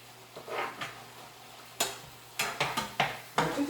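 Ground meat mixture being browned and stirred in a pan, with clattering scrapes and knocks of a utensil against the pan coming in irregular bursts over a faint background hum, close and fairly quiet.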